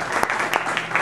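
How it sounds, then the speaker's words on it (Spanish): A short burst of audience applause at a didactic concert by a band, a dense wash of clapping hands heard up close for about a second. "un aplauso para acá."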